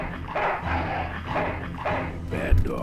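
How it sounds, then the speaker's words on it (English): A dog in the Full Throttle Remastered video game barks several times in quick succession, close and loud, with short yips over a low game soundtrack. "now I just triggered the dog again"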